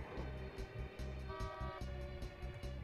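A car horn in the SNES game Tintin et le Temple du Soleil, a steady toot sounding over a busy, rhythmic game soundtrack with a regular low beat. The horn holds for about half a second in the middle and is fairly quiet in the mix.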